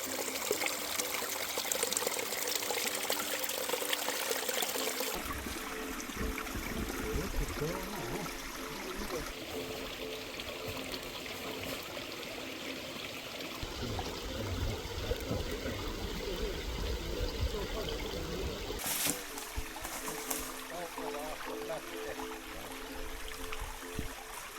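Small Krivača river flowing through a stone channel, a soft continuous trickle and gurgle of water heard faintly and steadily, its texture shifting slightly over time, with no talk.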